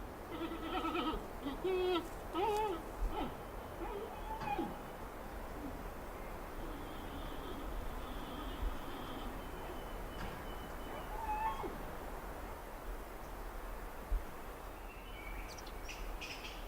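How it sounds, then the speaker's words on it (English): Wild giant pandas in mountain forest give loud bleating and chirping calls, a few short tonal cries early on over steady outdoor background noise, heard at a distance. "the sound of loud bleating and chirping raises hopes of a chance to get close enough to study them"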